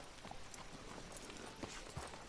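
Horse hooves clip-clop at a steady walking pace on a town street in the video game Red Dead Redemption, faint and set against a continuous hiss of background ambience.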